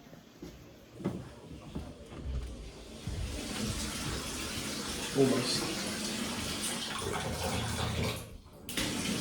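Water runs steadily into a bathtub, a broad rushing hiss with faint knocks and movement, and a voice briefly speaks partway through.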